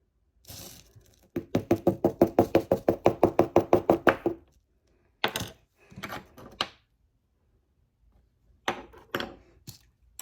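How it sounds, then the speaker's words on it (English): A rapid run of about fifteen sharp, evenly spaced hammer knocks on rock while diamond mining, followed by a few scattered single taps after short pauses. "We're just knocking a bit of powder off."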